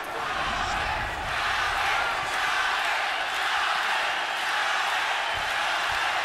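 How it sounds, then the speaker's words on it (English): Steady roar of a large pro-Chavez crowd at a boxing match cheering Julio Cesar Chavez Jr., a dense continuous wash of voices and shouts swelling slightly, heard at a distance throughout. "Pro-Chavez crowd trying to urge him on for more."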